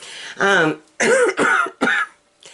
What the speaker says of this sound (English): I am coughing up that other lung.